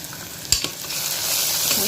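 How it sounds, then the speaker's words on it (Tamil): Onions sizzle and fry in a hot pan, with a short clatter as they are stirred, the sizzling building steadily louder. "வெங்காயம் நல்லா வதங்கட்டும்."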